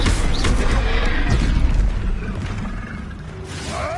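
Expulso explosion spell in Hogwarts Legacy, a loud booming blast with rumbling, crackling debris that stays heavy throughout and tails off slightly near the end.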